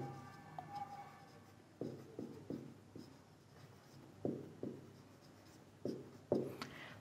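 Pen or pencil writing on paper during a class 8 maths lesson, with short scratchy strokes in irregular bursts, quiet and close, no talking.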